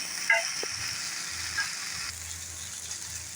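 Prawns fry gently in ghee and butter over a low flame, a soft, quiet sizzle with a few faint pops and clicks of the pan, steady throughout.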